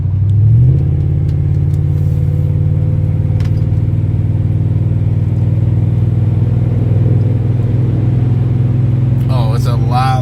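A 1997 Chevrolet Silverado fitted with a Dynamax bullet muffler cruises on a freeway, its exhaust a loud, steady low droning rumble holding constant throughout, with a brief voice near the end.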